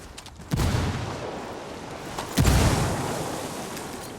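Two frag grenades go off one after the other in Ghost Recon Wildlands. Each is a heavy booming blast with a long rumbling decay, and the second sounds slightly louder.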